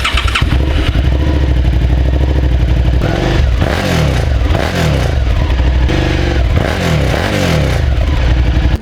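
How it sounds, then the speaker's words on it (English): A Suzuki SV650 motorcycle on its stock exhaust idles loudly up close, then gets blipped through a series of sharp, repeated revs that rise and fall over a steady engine rumble. "let's get a sound clip of the stock exhaust"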